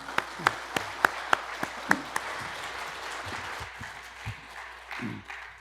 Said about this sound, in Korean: 하나님 앞에 영광의 박수 먼저 올려드리겠습니다